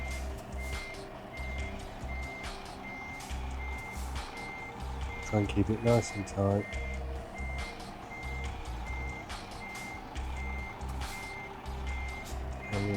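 A reversing truck towing a trailer in Euro Truck Simulator 2 sounds its regular repeating backup beeps over a low engine rumble, with a brief hiss and clatter midway and someone talking over it.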